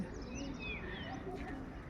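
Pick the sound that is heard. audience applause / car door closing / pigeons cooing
pigeons cooing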